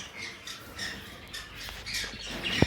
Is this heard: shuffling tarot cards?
no